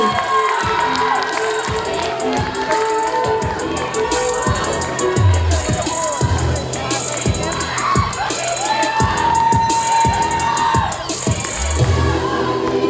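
A student audience at the Mister BGPU 2023 contest breaks into loud, sustained applause mixed with cheering and whoops, a dense crowd roar that holds steady throughout.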